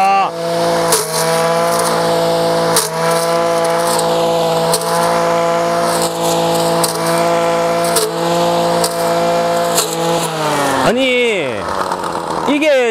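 A lightweight 25cc engine brush cutter runs while cutting soft grass: a loud, close, steady high-pitched engine drone with brief dips under load, then a revving sweep near the end.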